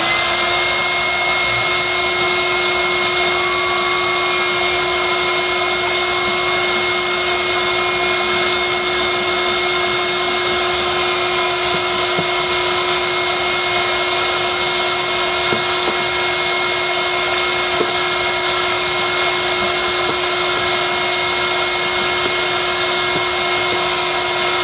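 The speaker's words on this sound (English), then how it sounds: "The actual cyclone itself is now, I think, working." Cyclone dust extractor running in a small workshop shed, a loud, steady whooshing roar with a constant motor whine that holds unchanged throughout, no voices.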